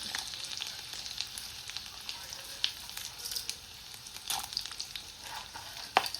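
Pepper, cumin and chana dal fry in a pan for sambar, a soft steady sizzle with occasional sharper pops and crackles, fairly quiet and close.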